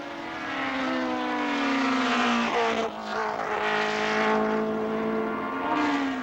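Race cars roaring past on a wet racing circuit, a loud droning engine note that swells as they pass close by, with a second car following and engines overlapping continuously.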